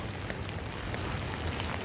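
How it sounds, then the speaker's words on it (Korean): Rain pouring down outdoors near the sea on a Jeju Island trail, a dense, steady hiss of falling water with soft patter, close and unbroken for the whole moment. "비가 그냥 주룩, 주룩, 주룩, 주룩"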